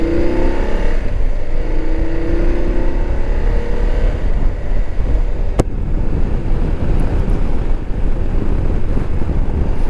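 An enduro-style motorcycle rides along a road, its engine droning steadily beneath heavy wind buffeting on the microphone, continuous and loud throughout with no voices.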